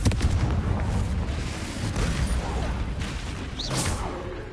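A Confringo fire spell blasts in Hogwarts Legacy, a loud, dense booming burst that rolls on for several seconds with crackling debris and layered game ambience beneath.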